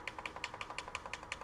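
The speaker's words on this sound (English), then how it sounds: "I'm clicking tune minus to set as 0." Buttons on an electronic device are pressed in a quick, even series of sharp, light clicks close by, with no voices.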